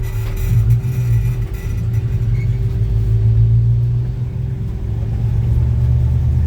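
A 1966 Chevy C10 pickup with a stock 350 V8 from a 1992 Chevy truck runs close by in a low gear, a loud, steady, deep rumble with slight swells in revs and no talking.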